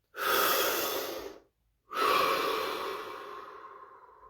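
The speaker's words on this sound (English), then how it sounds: "Deep breath." Two deep, slow breaths close to the mic, each a long airy exhale trailing off, separated by a brief pause of silence.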